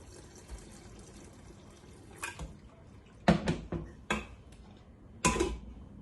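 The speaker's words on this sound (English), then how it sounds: "I'm going to be adding some of the stock from the meat." Meat stock poured into a pot of Nigerian egusi soup, heard as several short splashing bursts with brief pauses between them. The bursts are fairly close and alone, with no talk.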